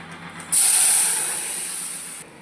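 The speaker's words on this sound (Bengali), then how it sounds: "এই দেখুন এই জলটা আমি অ্যাড করে দেবো" Water splashed into hot oil with hilsa fish for a sour mango-powder curry sets off a sudden loud hiss that bursts in abruptly, holds strongly for almost two seconds, then fades slightly before cutting off.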